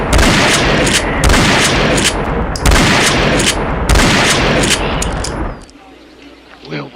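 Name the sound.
gunfire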